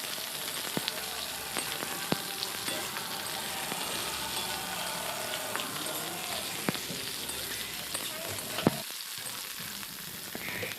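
Mixed vegetables, with potatoes and beans added in turn, fry in a pan for a vegetarian curry: a steady, fairly quiet sizzle with occasional sharp clicks from stirring throughout.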